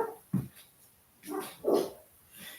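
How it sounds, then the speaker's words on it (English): Dogs bark and yip indoors in a few scattered bursts, with whimpering between them, fairly faint and at a moderate distance. "I'm sorry about the dogs."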